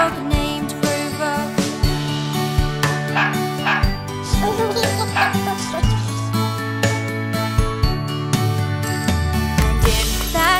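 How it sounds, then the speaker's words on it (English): Cartoon dog barks in a children's nursery song: short, repeated yaps and woofs pop out at a regular pace over bouncy music and sung vocals. "Mama's gonna buy you a dog named Rover"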